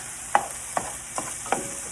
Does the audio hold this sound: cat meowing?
no